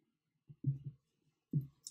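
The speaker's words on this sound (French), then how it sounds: "Vous prenez vos ciseaux" Scissors snipping embroidery thread at close range, two short crisp cuts with a pause between them, alone in an otherwise quiet space.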